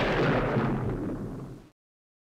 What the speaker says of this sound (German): Die explodiert gleich.